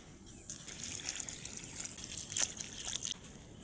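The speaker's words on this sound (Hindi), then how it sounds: "अब इसको पानी देते हैं।" Water trickles and gushes onto the soil of a potted lemon plant, a close, fairly quiet, uneven pour with small splashes and drips that swell a little midway and then settle back.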